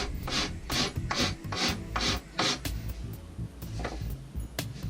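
Rasp filing a wooden longbow limb around a raised knot, with about seven steady rough strokes in a regular rhythm, then softer, more irregular scraping. The sound is close and alone, with no talking.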